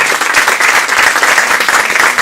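A crowd at an awards ceremony applauds loudly, a dense and steady wash of many hands clapping at once.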